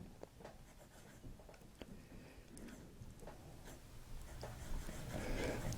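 A steel-nibbed fountain pen scratches across paper in short, irregular strokes, faint and close with a soft scratchy texture and no voices.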